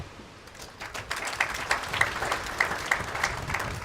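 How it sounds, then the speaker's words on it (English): An audience at a private-sector CEO forum applauds the Deputy Speaker of Parliament, the clapping rising from a soft start into a steady, moderately loud patter of many hands. "Deputy Speaker of Parliament a big clap."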